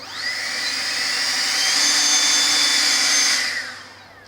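EGO 56V cordless leaf blower with a centered fan, its motor whirring up in pitch and loudness into a steady high whine, then winding down at the end, heard close and alone.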